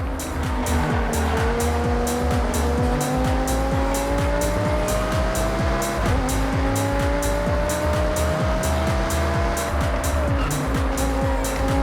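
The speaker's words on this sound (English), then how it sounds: "this V10 powered supercar could manage a top speed of 205 miles per hour" A V10 supercar in Forza Horizon 6 revs hard through gear changes while its tires squeal steadily, a loud continuous engine drone and shifting pitch sustained throughout without any talking.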